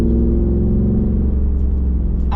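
Hemi 392 V8 in a truck cruising around town on a cold day, a loud, steady low burbling engine drone with a constant throb throughout, alone without speech.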